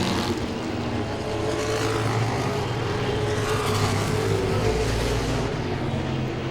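Modified race cars roar around Langley Speedway in a continuous, loud engine drone that swells and fades as the pack passes, with no talk.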